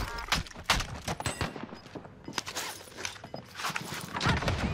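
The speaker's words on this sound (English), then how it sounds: "Someone's firing RPGs at me." A dense, continuous battle din from a multiplayer shooter video game, with rapid gunfire cracks and blasts overlapping throughout, including incoming RPG fire.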